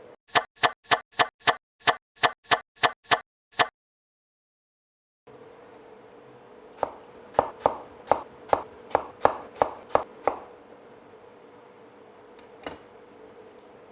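A knife chops two peeled slices into small cubes for a honey mint winter salad. About ten quick, evenly spaced sharp taps come first, then a pause, then a second looser run of chops over faint background hiss.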